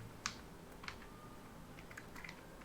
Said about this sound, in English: we have to type in whatever our story is